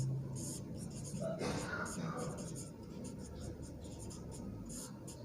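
Chalk or pen scratching across a board during a Class 10 trigonometry lesson on heights and distances, steady close strokes under a soft, continuous room hiss, with no talking.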